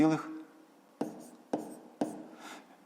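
Pen or pencil writing numbers by hand on paper for a fifth-grade decimal arithmetic exercise, a few short close scratchy strokes in separate bursts after a brief spoken word.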